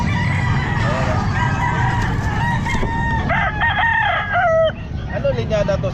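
Sweater-line gamefowl roosters crowing at a busy Calumpit pet market, several strained crows rising and falling amid crowd chatter and nearby people talking.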